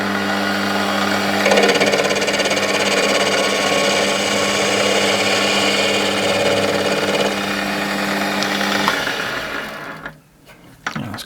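Lathe machining a home-cast aluminium broom part in a workshop: a steady motor whir with a continuous cutting tone, held for about nine seconds before winding down, with a few clunks at the end.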